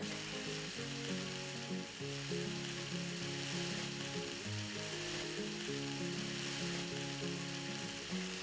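Prawns frying on the griddle top of an AGA R7 cooker produce a soft, even hiss that runs unbroken, fairly faint, with a low steady tonal hum underneath.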